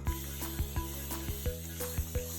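A spray bottle is pumped in quick repeated squirts of water onto paper, about eight short hissing bursts in a steady rhythm, close and fairly loud.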